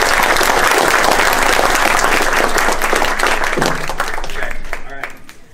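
A large audience claps loudly and steadily for the speaker Marc at a talk, a dense wash of many hands that fades toward the end, with voices mixed in.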